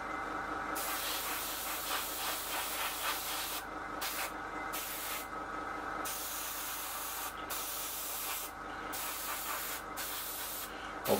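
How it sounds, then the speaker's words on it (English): An airbrush lays a light overspray of paint onto a Seafire XV model aircraft in bursts of close, steady hissing, broken by short pauses between passes. "I'm just blending the weathering back a little bit with a very light overspray"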